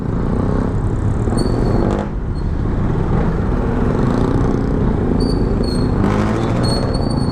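A 400cc maxi scooter motorcycle being ridden, its engine a loud, steady drone with wind rush and a brief dip in the middle, heard up close from the rider's seat without talk.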